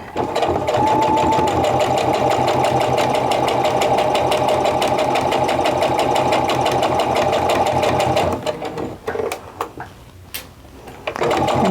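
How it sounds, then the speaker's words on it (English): A sewing machine stitches fabric in a quilting project, running steadily and close for about eight seconds before slowing into short bursts and stops, with no talk over it. "So nice and slow, sewing right up to that pin and then removing it."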